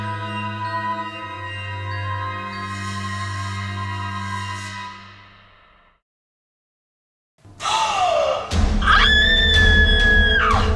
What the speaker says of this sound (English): Brooke screams